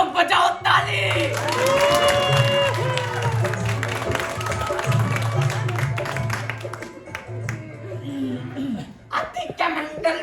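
Children clap and cheer as a crowd at a stage performance, with a dense patter of claps and shouts mixed under a droning tone and a voice calling out.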